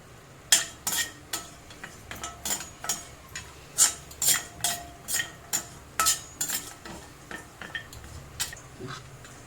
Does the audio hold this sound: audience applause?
no